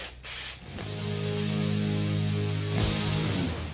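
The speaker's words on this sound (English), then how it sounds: "when we twist the nozzle back, we get a vertical spray" A hiss of Q30 rust-prevention aerosol spray from an adjustable nozzle bursts briefly, then a longer continuous vertical spray, close and loud, with a steady hum underneath.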